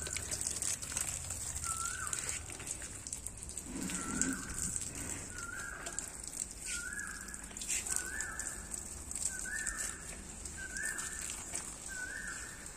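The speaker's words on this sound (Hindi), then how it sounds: "सुबह ही सुबह कोयल की आवाज।" An Asian koel calls again and again in a terrace garden in the morning, its short rising notes repeating at a steady pace over a constant hiss of background noise.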